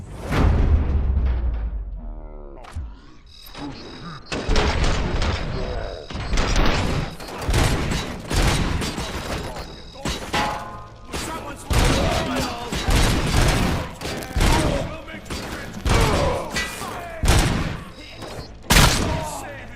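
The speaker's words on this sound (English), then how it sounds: "Am I hearing gunshots?" Dense bursts of gunfire and booming impacts from the video game Robocop Rogue City, repeated volleys and fusillades filling nearly twenty seconds, loud and close with whooshing and mechanical clanks mixed in.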